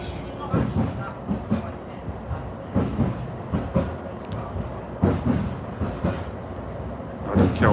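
A Nottingham tram bound for Hucknall runs on rails, its wheels thumping and clacking in a rhythmic series of heavy knocks over the track, heard close from on board.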